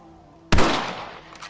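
A single loud rifle gunshot in Red Dead Redemption, a sharp close crack after near silence, trailing into a long echoing decay with a faint later flutter.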